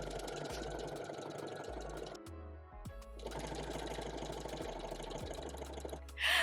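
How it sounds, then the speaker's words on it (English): Sewing machine joining T-shirt knit pieces, running in close, loud bursts of rapid stitching with a short pause in the middle and a low motor hum underneath. "I'm gonna sew them together like this"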